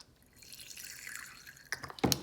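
Liquid acrylic monomer being poured into a small jar, a soft trickling stream, then a few drips and a hard tap near the end, close up with no talk.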